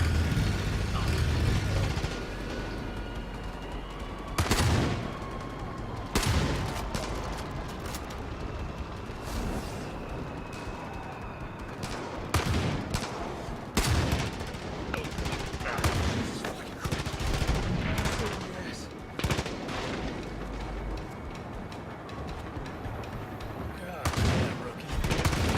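Repeated gunfire in the open-world shooter Far Cry 5, with loud single shots and short bursts scattered across a long stretch of noisy combat, some close and punchy.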